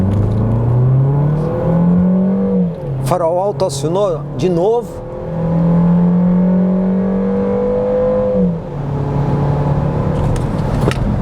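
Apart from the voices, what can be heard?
SUV launching and accelerating hard, traction control off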